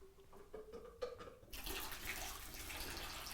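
Fresh water is scooped into a full jug, first as faint trickles and drips, then as a sudden, steady rush of pouring water that continues close and fairly quiet.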